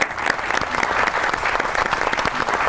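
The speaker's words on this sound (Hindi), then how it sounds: "बहुत सी ताली होनी चाहिए उनके लिए" A studio audience on a Pakistani talk show gives a brisk round of applause, close and loud, with dense continuous clapping throughout the short stretch.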